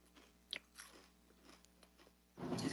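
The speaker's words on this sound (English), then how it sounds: "Boy, somebody over there crunching." Someone crunching chips off to the side, a few scattered crisp bites and crunches at low level, ending in a louder rustling burst.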